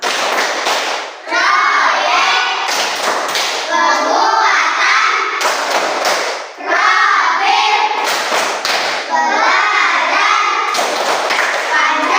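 Children clap in unison in a classroom counting clap game, several loud rhythmic bursts of claps with short pauses between them, mixed with busy voices and chatter.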